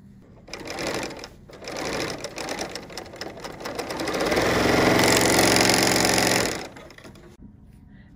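A serger sewing machine stitches and trims a fabric seam: a rapid mechanical whirring in several short runs, then one long steady burst that stops abruptly, close and loud with no talk.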